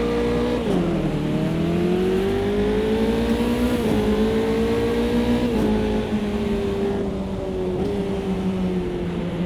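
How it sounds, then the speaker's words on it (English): An F3 race car engine from the Automobilista 2 sim racing game at Oulton Park screams at high revs, pitch dipping briefly with each gear change and climbing again, loud and continuous. "Automobilista 2 in the F3 at Oulton Park, the island configuration"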